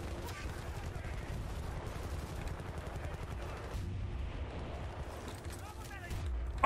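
Gunfire in the video game Battlefield: Bad Company 2, a steady dense clatter of automatic weapons and distant blasts throughout a battle, with a brief louder burst at the very end.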